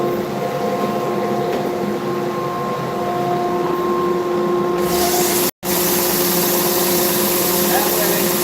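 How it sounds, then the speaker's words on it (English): An edge sander with 80 grit paper runs as a loud continuous motor whine while sanding a guitar scarf joint, its tone shifting as the workpiece is pressed, then cutting out briefly and resuming. "I'm gonna let this edge sander do all the work"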